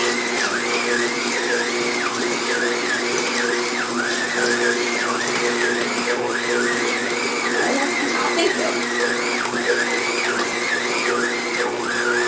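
A stand mixer whirs steadily as it works pie dough for a pear pie, a loud continuous motor hum with a wavering pitch that runs the whole time, no voices.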